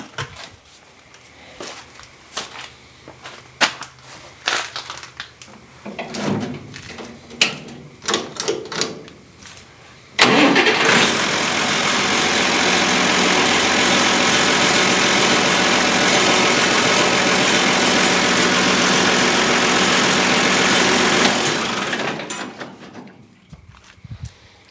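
An engine cranks and catches, then runs at a steady loud idle for about ten seconds before cutting off, after some clattering handling noises.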